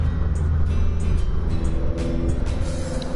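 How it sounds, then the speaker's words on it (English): A loud car rumbles by outside, its deep low engine drone filling the whole moment and holding steady without a break. "Everyone around here has a loud ass car."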